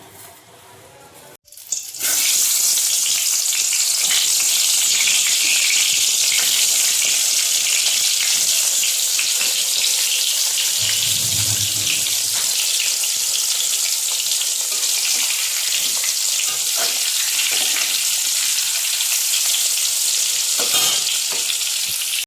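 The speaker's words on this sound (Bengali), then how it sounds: "এই যে আলু ভাজা বসিয়েছি" Potatoes frying in oil, a loud, constant close-up sizzle that starts abruptly after a brief quiet moment and continues without letup, with a few crackles and a low thump midway.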